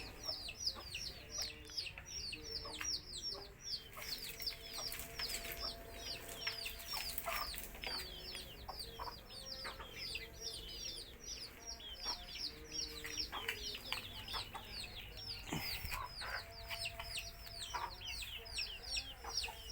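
Free-range Thai native chickens cluck steadily throughout, many birds at once close by, with busy chirping and calls layered over a constant farmyard bustle.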